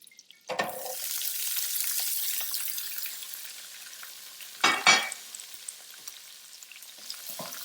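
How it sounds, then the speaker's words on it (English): Wet onions sauteing in a hot pan give a steady bright sizzle, with a louder burst of stirring or clattering midway before settling back to a continuous fry. "Now we're going to let these wet onions saute and get golden brown."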